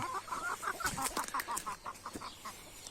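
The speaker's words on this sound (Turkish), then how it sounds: "bir kırka yakın civcivimiz çıktı" Hens cluck in a rapid, faint series in a farm coop where about forty newly hatched chicks have just come out, a soft, busy poultry chatter without voices.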